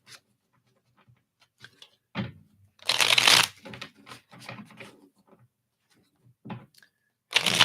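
Cards are shuffled for a live reading, giving intermittent rustling bursts of riffling and sliding, one long loud flurry in the middle, with faint low murmurs in the quieter gaps.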